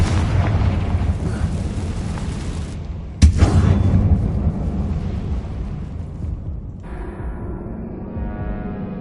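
A Confringo fire spell explodes in Hogwarts Legacy, a sharp blast near the middle over a dense, rumbling game soundscape of ongoing ambient noise and effects.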